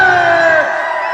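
A big crowd at a Khesari Lal Yadav Bhojpuri stage show roars and whoops loudly in a brief, sustained burst of cheering that tapers off.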